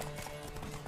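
A horse gallops in The Witcher 3, its quick, steady clip-clop hoofbeats running unbroken and close over a soft ambient game backdrop.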